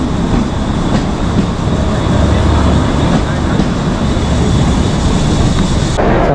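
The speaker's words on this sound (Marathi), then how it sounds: "भरपूर वेळ झाला 2 तास झाले या ट्रेनमध्ये" Interior rumble of a Mumbai local train in motion near CST, a loud, steady roar with faint rhythmic clatter throughout.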